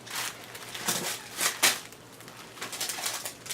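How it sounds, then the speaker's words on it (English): Pet birds fluttering and calling nearby in short bursts, with scratchy rustling and soft coos scattered across the moment. "Again, I apologize for my birds back there."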